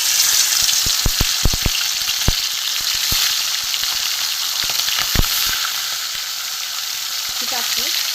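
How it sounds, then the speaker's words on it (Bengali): Bata fish rubbed with salt and turmeric frying in hot oil, a loud, steady sizzle with sharp crackling pops scattered throughout, close up and without talk. "এখানে বাটা মাছ নুন হলুদ মাখানো রয়েছে, এটা আমি ভেজে নেব।"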